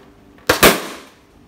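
A rubber balloon pierced with a toothpick bursts in a sharp, loud double pop, with a short, fading tail and no voices, close to the listener.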